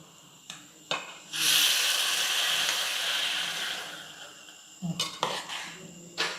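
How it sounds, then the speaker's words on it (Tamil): Sweet boondi is stirred with ghee and sugar syrup in a pan for Diwali, a spoon giving a few light clinks, then a long, close scraping sweep against the metal, then more sharp taps and knocks. "இப்போ நெய்யோடு சேர்த்து அப்படியே மிக்ஸ் பண்ணி விட்டுருவோம்"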